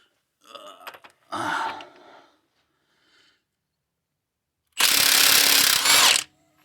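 An impact tool spins out a timing chain bolt on a 2016 Chevy SS sedan with an LS3 engine, a harsh buzzing burst of about a second and a half after a few faint clanks and rustles.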